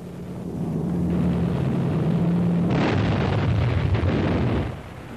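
Wartime bombing and strafing by fighters and attack bombers against German Luftwaffe ground targets, heard as a loud sustained roar of blasts and rumbling that holds steady, then surges with a fresh burst midway before cutting off near the end.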